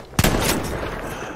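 A single sharp gunshot in the shooter game Battlefield V, close and loud, followed by a brief ringing tail and low rumble that fades out with no talking.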